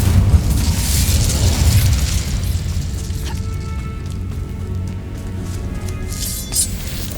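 An Incendio fire spell in the video game Hogwarts Legacy unleashes a loud, roaring blast that rumbles heavily at first and then fades into a hissing, crackling tail with small pops.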